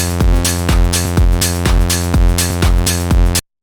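A synthesizer plays a steady run of smooth, connected legato notes, each note change falling about every half second at an even loudness, with no talking over it.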